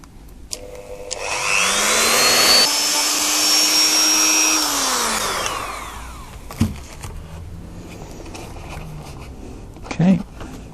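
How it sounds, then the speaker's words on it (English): Small Dremel rotary tool clearing material on a foam model jet airframe, a close, loud whine that spins up, holds for several seconds, then winds down, followed by light handling clicks. "And we got a little Dremel."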